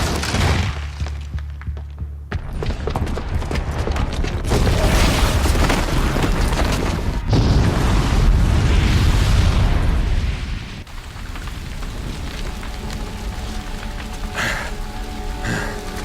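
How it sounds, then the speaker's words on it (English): A bomb explosion in the video game Horizon Zero Dawn erupts into a loud rumbling blast with crumbling debris, surging and holding for several seconds before easing into a lower, steady roar. "the booby trap on the bomb downstairs is gonna get set off"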